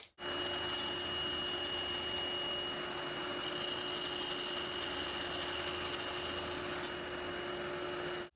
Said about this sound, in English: I make this slightly shorter than my workpiece and then I modify them slightly on the bandsaw as I will show now.